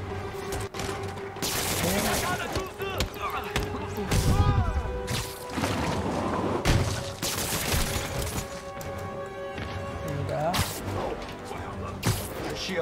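Sniper gunfire in the Marvel's Spider-Man video game: sharp shot bursts and impacts crack repeatedly through dense game music and effects, loud and close throughout.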